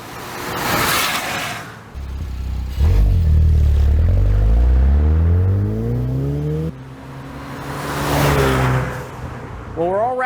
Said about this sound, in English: that way you can end up finding the perfect exhaust note that fits you.